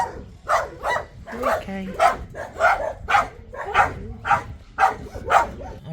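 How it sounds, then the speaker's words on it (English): Several dogs barking at a large animal shelter housing puppies and adult dogs, a steady run of repeated sharp barks at close range with a brief whimper and a person speaking softly. "So this shelter has over 400 dogs, a mix of puppies and adult dogs"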